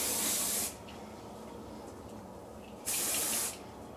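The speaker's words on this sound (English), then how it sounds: "spray hairspray where we pull it apart. So really get it in there at the roots." Two close bursts of hairspray hiss from an aerosol can aimed at the hair roots, each lasting about half a second, separated by a quiet pause.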